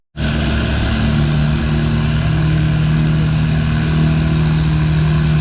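A pulling tractor's engine runs loud and steady at a tractor pull in the 3200 lb ladder bracket class, a continuous heavy mechanical roar starting abruptly and holding at full strength throughout.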